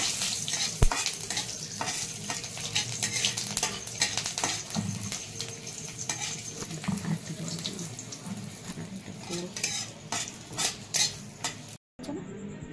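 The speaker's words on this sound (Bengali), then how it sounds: "এবার আমি তেল গরম হয়ে গেছে, একটা কাঁচা লঙ্কা, দুটো তেজপাতা, সাদা জিরে তেলে দিয়ে আমি নেড়ে ছেড়ে" Green chili, two bay leaves and cumin seeds sizzle in hot oil for a Kashmiri cauliflower dish, with steady crackling frying and the scrape of stirring throughout, fairly close, no talk.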